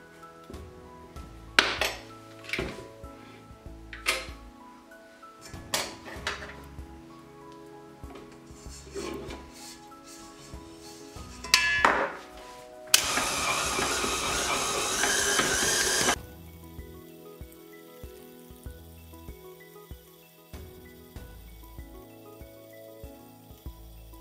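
A stand mixer kneads vegan brioche dough while butter is added bit by bit, giving off irregular mechanical clicks, knocks and rattles, then a loud few-second whirring burst before settling into quieter rhythmic churning.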